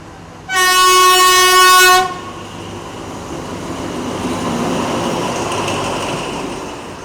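A train on the railway beside the Taling Chan Bang Ramat trackside community in Bangkok sounds a loud, steady horn blast for over a second, then wheels rumble and clatter on the rails as it passes nearby.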